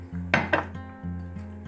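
Banana fritter batter being mixed in a bowl, with two sharp utensil clinks against the bowl followed by softer repeated scraping strokes, close and alone without talk.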